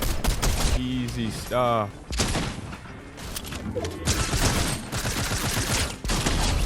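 Rapid bursts of gunfire and impacts from a console shooter video game, dense and loud through most of the stretch, with a player's voice talking over the action.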